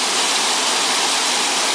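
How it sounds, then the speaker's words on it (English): Waterfalls near Abergynolwyn roar in a loud, steady, broadband rush of falling water, continuous and close, with no voices. "there's the waterfalls there, right there."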